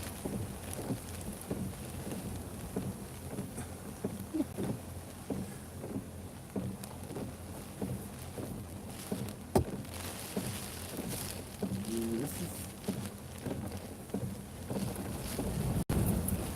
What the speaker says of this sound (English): Heavy wind. Heavy wind.